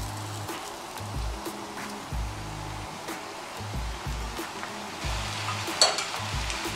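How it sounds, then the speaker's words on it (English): Sauce transferred into cooked beans for a Nigerian-style bean dish and stirred, a bubbling sizzle with repeated soft, thick stirring strokes and a few sharper knocks of the spoon. "Now I'm going to transfer my sauce into the beans."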